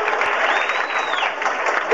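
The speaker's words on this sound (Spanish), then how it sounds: "Venga, un aplauso para este concejal, hombre, venga, fuerte aplauso para él" An audience at the 1997 Nerja carnival awards applauds loudly and continuously. The dense crowd clapping is close, with voices and cheering mixed in.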